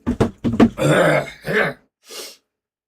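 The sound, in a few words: coughing fit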